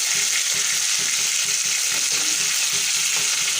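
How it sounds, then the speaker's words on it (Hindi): Fish frying in a pan of hot oil for a spicy masala fish curry, giving a loud, continuous crackling sizzle with a constant hiss and soft irregular pops, close by and with no talking. "ये देखिए बहुत अच्छे से फ्राई हो रही है।"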